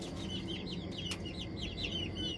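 A hen clucks repeatedly during egg candling in a darkened room, short rhythmic calls close to the microphone over a steady background hum.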